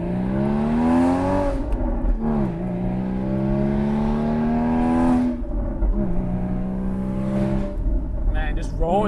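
A Porsche Boxster 981 with an FVD Stage 1 tune pulls hard through the gears, each rising engine note broken by brief shift gaps, loud and close from the cabin.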